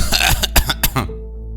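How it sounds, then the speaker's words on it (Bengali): Harsh, dry coughing fits in a Bengali story setting, a father coughing in the background at night: several rough bursts and throat-clearing in quick succession, close and fairly loud, then trailing into quiet with no talk over it. "ওর বাবার খক খক কাশি পেছনে শোনা গেল"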